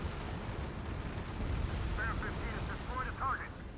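Rumbling explosions in the video game Ace Combat 7 roll on in a dense, low chain, with a voice speaking over the blasts.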